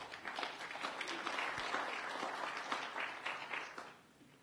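Audience applause at an education panel event, as three panelists are welcomed; sustained dense clapping from a roomful of people, steady for several seconds before tapering off at the end.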